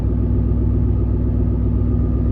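Truck engine idling, a steady low rumble with even, continuous pulsing, close and unchanging from start to finish with no talk.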